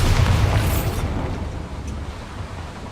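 A Bombarda spell blast in the Hogwarts Legacy video game: a loud, deep explosive boom at the start that rumbles and slowly decays over the next few seconds, with no voices.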